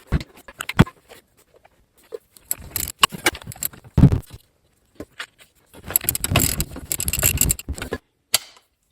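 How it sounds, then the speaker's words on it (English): Metal strut bolts on a 2008 Chevy Equinox front suspension being wiggled back into place, giving scattered close metallic clinks and rattles with a busier stretch of scraping and jingling near the end. "Should be able to come in with our bolts, wiggle them back in."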